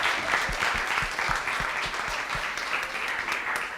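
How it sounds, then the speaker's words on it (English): Sustained applause from a conference main-stage audience at a university in Johannesburg, a dense steady wash of many hands clapping throughout, fairly loud and close, with no talking over it. "Please, a round of applause for all our speakers."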